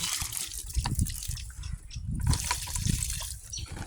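Water poured from a bucket onto seedlings splashes and trickles in uneven surges, close and fairly loud, with dripping between pours.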